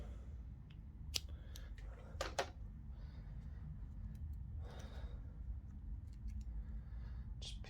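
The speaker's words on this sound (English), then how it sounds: "I need to get some scissors" Quiet scissor snips, a few sharp crisp cuts spaced irregularly, with faint rustling between them.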